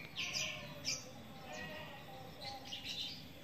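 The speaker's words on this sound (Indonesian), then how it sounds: "Cukup dengan cara yang seperti ini cucak jingkot sudah gacor tuh, jantannya sudah manggil-manggil itu." A male cucak jenggot songbird calls in short, bright squawking and chirping phrases, faint and somewhat distant over a quiet background hiss.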